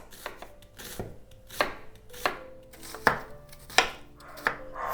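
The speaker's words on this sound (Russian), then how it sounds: "Лук нарезаю тонкими четверть кольцами" A knife slices an onion into thin quarter rings on a cutting board, about seven crisp cuts at an even rhythm, close and alone.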